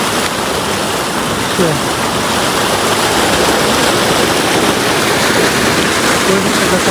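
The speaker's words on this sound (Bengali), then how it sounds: "পানির স্রোত" Water rushes in a strong irrigation current pumped through a wetland, a loud, steady broadband roar and splash that never lets up.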